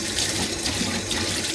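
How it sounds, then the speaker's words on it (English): Tap water runs steadily into a steel sink to rinse off bleach, a continuous close hiss and splash with no pauses. "you've got to make sure you rinse all this bleach off before you do the next stage"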